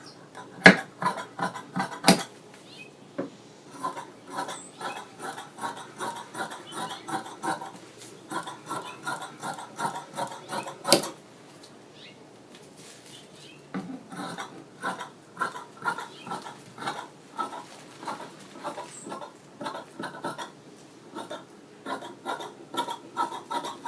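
Scissors snip and rasp through fabric while a sewing pattern's back piece is cut out, a steady run of close, crisp cutting strokes with brief pauses.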